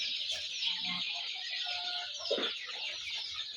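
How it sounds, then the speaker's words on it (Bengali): Chickens of foreign breeds such as Brahma cluck and call, some near and some farther off, as a busy, continuous clamour of poultry with no talking. "মুরগির বাচ্চা আপনাদেরকে দেখাবো।"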